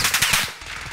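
A quick burst of MP5 submachine gun fire in Call of Duty Cold War, several sharp rapid shots close and loud within under a second, then tailing off.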